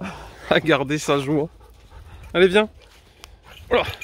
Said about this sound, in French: Donc c'est un chien bruyant, hein,